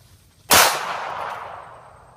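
A .380 pistol fires a single loud, sharp shot outdoors near woods, and the report rings out in a long reverberant tail that fades over about a second and a half.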